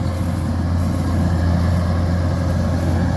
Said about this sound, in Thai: เอารถไถมาเปิดทาง ถ้าไม่เปิดทางรถเกี่ยวไปไม่ได้นะครับ